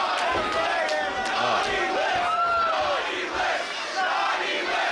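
A wrestling crowd at a Limitless Rumble event jeers and boos a heel wrestler, a loud sustained roar of many voices with rising shouts and whistles, fairly close and continuous.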